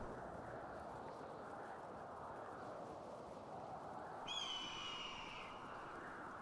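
An eagle cry from the video game Knockout City: a single short, shrill call of about one second that rises out of steady, faint background noise.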